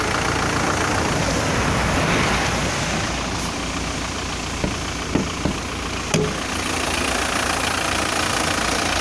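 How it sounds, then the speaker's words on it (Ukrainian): An Audi A4 car engine idles steadily up close, a constant rumble with a few faint clicks and knocks partway through. "Моторчик добре робить."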